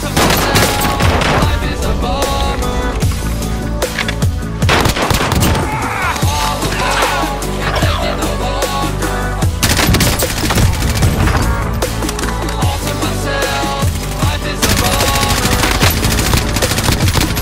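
Sustained gunfire in the video game Warzone, loud rapid automatic bursts and crackling shots layered over one another throughout, with game sounds but little speech.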